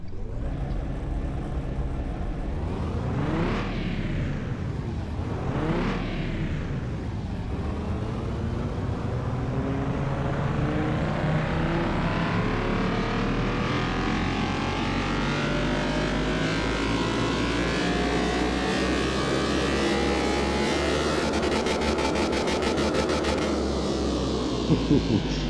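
A V6 engine in Car Mechanic Simulator 2021 revs hard on a dyno, with two quick sweeping blips followed by a long steady climb in pitch to a high, loud wail that cuts off at the top, with no voices.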